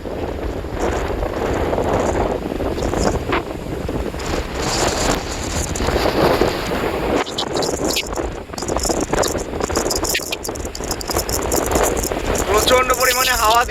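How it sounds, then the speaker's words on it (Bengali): Strong wind buffets the microphone before a storm in Bolpur, a loud continuous rushing roar that swells and gusts throughout with sharp buffeting bursts, with a voice talking over it. "প্রচন্ড পরিমাণে হাওয়া দিচ্ছে, ঝড় উঠেছে,"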